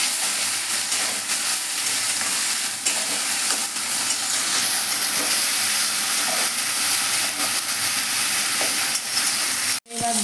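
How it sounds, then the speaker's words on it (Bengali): Coconut and shrimp frying in a pan, a loud continuous sizzle and hiss with steady stirring scrapes throughout, close up and without speech, ending in a brief cut. "দিয়ে ওটাকে আমি একটু ভেজে নেবো ভালো করে।"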